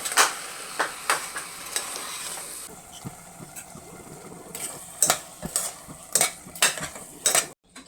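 A jaggery and lentil filling for North Karnataka holige being stirred in a pan: repeated sharp scrapes and clinks of a spatula over a soft sizzle, close and steady, with no talking.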